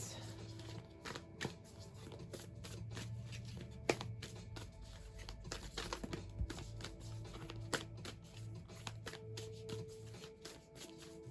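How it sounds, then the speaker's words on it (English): Repeated soft riffling and snapping of tarot cards being shuffled, quiet and close, in bursts with brief taps between them. "Kept shuffling when a card flipped out on me."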